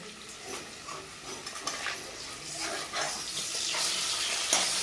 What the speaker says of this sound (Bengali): মাছটাকে কিন্তু আমি এখন উল্টে দেবো।